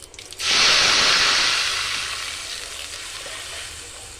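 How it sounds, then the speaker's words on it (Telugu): Buttermilk charu is poured into a hot pan with tempering, bursting into a loud hiss and sizzle that peaks quickly and then slowly fades, close up with no voices. "ఇందులో మజ్జిగ చారు పోసుకుంటా."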